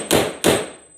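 Two sharp, resonant hammer taps knock carriage bolts into wood for an easel build, close and evenly spaced, each ringing briefly.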